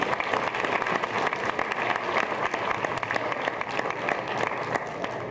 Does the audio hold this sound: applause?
yes